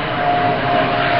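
A jet aircraft roars steadily overhead above an orchard, a loud, continuous broadband rumble with a faint whine that never lets up.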